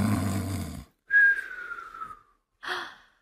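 A woman imitates snoring with her voice: a rough, buzzy inhale followed by a whistling exhale and a short final snort, close and fairly quiet.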